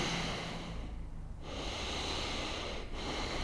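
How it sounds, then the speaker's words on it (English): A slow, audible inhale is drawn through the nose while someone holds an extended side angle yoga pose, a close, steady breathy rush lasting a few seconds. "breathe in"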